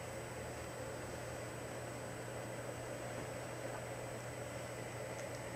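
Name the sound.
buzzing of a fan in the background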